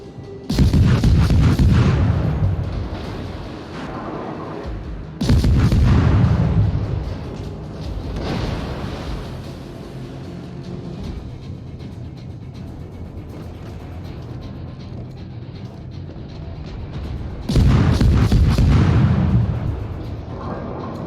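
Heavy naval guns from a German Tier III cruiser, the Kolberg, in World of Warships, firing in three loud booming salvos with rolling echoes fading between them.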